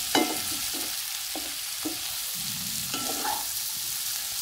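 Buttered garlic shrimp stirred in a pan, a constant soft sizzle under a handful of spaced spatula scrapes and knocks against the pan, close and unhurried, no voices.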